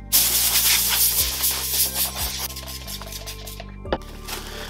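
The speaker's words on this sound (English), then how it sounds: "Now I'm just kind of spraying it off." Denatured alcohol sprayed from a spray bottle onto a scuffed helmet: steady, fairly loud hissing spray runs almost continuously over a low mechanical hum, with a few brief breaks and a short sharp pop near the end.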